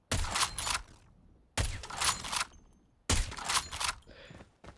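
Three loud sniper rifle shots from the Tundra in a video game, each a sharp blast followed by a decaying tail and faint mechanical clicks, evenly spaced about a second and a half apart.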